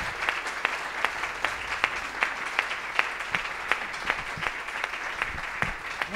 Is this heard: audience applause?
yes